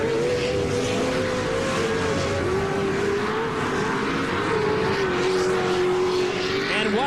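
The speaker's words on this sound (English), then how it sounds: "So Jeremy McGrath, number 2 in the Toyota Tundra monster truck, is trying to track down his childhood hero on 2 wheels." A Toyota Tundra off-road race truck in a 2009 TORC Pro 2WD race runs at a steady, loud engine roar that holds for several seconds with slight pitch shifts as it drives.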